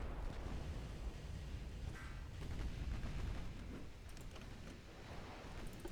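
Heavy cruisers fire their main guns in the naval battle game Ultimate Admiral: Dreadnoughts, a dense, continuous roll of booming artillery and rumbling blasts that overlap without pause throughout.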